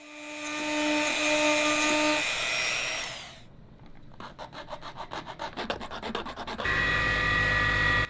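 Small wooden pen cap being cut or rasped to open a slot for the pen clip, giving a steady rubbing, grinding rasp that stops, then returns as rapid scraping strokes before a loud continuous whirring run.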